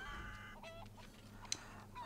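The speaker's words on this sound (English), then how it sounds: "Did I scare that fucking chicken into giving me an egg?" Chicken in a video game, giving a few short clucking calls at low volume with no talk.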